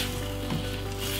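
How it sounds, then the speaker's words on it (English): Satay peanut sauce and water are stirred together in a pan, giving a short, close, steady sizzle and a soft scrape. "the water, I'm just gonna stir everything in"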